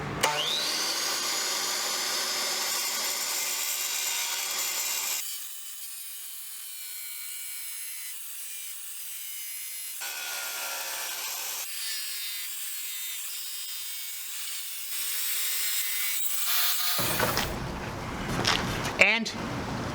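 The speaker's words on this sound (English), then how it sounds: "One of the best saws to miter hard porcelain tile like this" Whining, grinding wet tile saw, a Dewalt D36000, mitering hard porcelain tile, the pitch shifting as the blade loads and eases through the cut, ending with a louder burst of noise.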